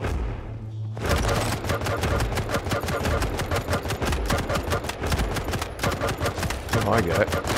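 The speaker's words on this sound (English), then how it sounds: "Pick up the heavy machine gun." A heavy machine gun fires in Quake Champions after a brief quiet lead-in. It is loud, close, rapid automatic fire with evenly spaced sharp shots in sustained bursts, and a voice is faintly present beneath it.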